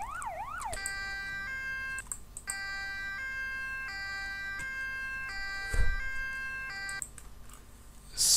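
Emergency vehicle sirens in the game Emergency 4 cycle through several patterns: a rising and falling wail, a two-tone hi-lo alternation and a rapid yelp, loud and repetitive, with a few clicks in between.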